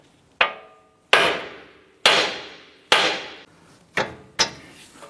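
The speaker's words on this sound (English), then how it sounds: "We're going to use our hammer and strike the knuckle right here to release our outer tie rod end." Six sharp metallic hammer blows strike a vehicle's steering knuckle to release the outer tie rod end, spaced about a second apart, each a loud close ringing clank that decays quickly.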